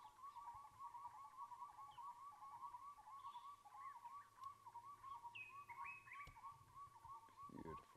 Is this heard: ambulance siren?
no